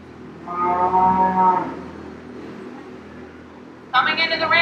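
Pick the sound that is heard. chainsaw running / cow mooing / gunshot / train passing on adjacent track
cow mooing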